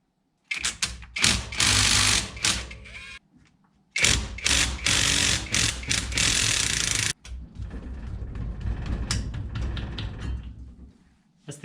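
A hand ratchet backs out intake manifold bolts on a small-block Mopar in a Barracuda, with bursts of fast, loud clicking in several runs separated by short pauses, close up and with no talking.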